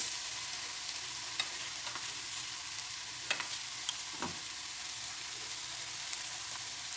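Onions and ginger garlic paste sautéing in a pan for chicken biryani give a steady, fairly loud sizzle, broken by a few light clinks and scrapes of stirring, without any voices.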